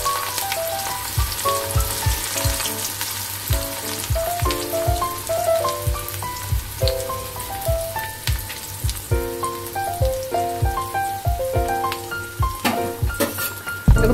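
Onion fries in oil with whole cumin over a medium-high flame, a soft sizzle under a steady melodic music track with rhythmic low beats.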